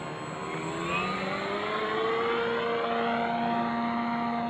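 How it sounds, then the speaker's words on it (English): Motors of an FB drone throttling up in flight: a fairly faint, whirring tonal whine with pitch lines that slide and shift together against a soft hiss. "Throttling up, man. She pushes right down."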